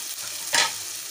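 Green chillies are added to chicken frying with ginger garlic paste and plum seeds for karela gosht. A steady close sizzle carries one brief louder burst of stirring, with no talk.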